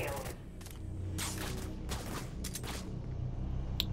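Plasma cannon fire in the video game Dust 514, heavy booming shots over a constant rumbling battlefield bed, with several bursts close together, no talk heard.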